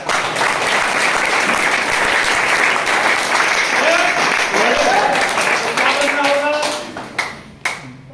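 An audience at a business talk breaks into loud, sustained applause that fills the room, then thins to a few scattered claps before fading out.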